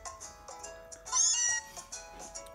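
A cat's meow in the video game Pokemon Sun, one short high cry in the middle among soft chirpy game sounds, close and fairly clear.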